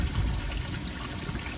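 A mini koi pond waterfall runs with a steady, close splashing rush of water that holds an even level throughout, with no voices over it.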